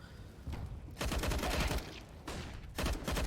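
Desert Eagle pistols fire during a CS:GO esports match, with several dense bursts of rapid, overlapping gunshots separated by brief lulls, heard alone without commentary over them.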